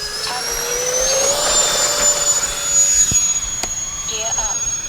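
FMS A-10 Thunderbolt twin-ducted-fan RC jet spooling up for takeoff on a runway, a steady high whine building and swelling across the whole stretch, with a person talking over it.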